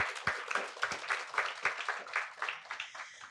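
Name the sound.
applause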